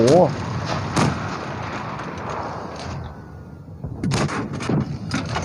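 Tank cannon fire in World of Tanks Blitz: a few heavy booming shots, one near the start and a cluster near the end, with a rumbling engine bed and a voice talking throughout.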